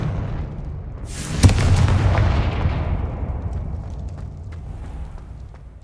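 A Confringo blasting curse in Hogwarts Legacy sets off one sharp explosion that cracks loudly and then rumbles away over several seconds.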